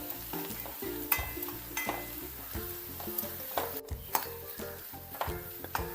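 Curry leaves and onions sizzle steadily in hot oil for a Kerala cashew nut curry tempering, with a spoon stirring and scraping the pan in a regular rhythm and occasional metallic clinks, close and unaccompanied by speech.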